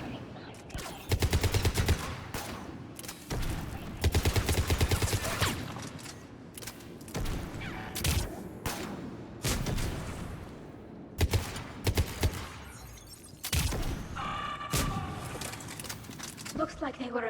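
Gunfire from the video game Mass Effect 3 comes in loud broken bursts across an in-game firefight, with game dialogue, mechanical clatter and other battle noise mixed in between volleys.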